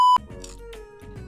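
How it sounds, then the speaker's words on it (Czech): A kitchen alarm clock timer gives one short, loud electronic beep, followed by quiet room noise. "zazvonil nám budík"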